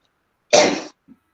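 A single sharp cough, loud and close, followed by a brief faint throat sound, with silence around it.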